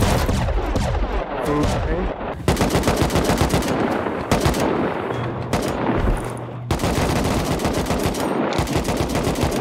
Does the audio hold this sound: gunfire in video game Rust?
yes